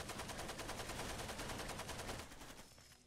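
Rapid automatic gunfire in the shooter game Far Cry 2, a steady rattling stream of shots that runs for about two seconds and then cuts off, leaving a faint tail.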